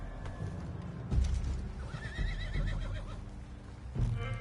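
A horse in the Red Dead Redemption 2 video game gives a wavering whinny amid soft hoof clops and low game ambience, with a brief spoken word over it.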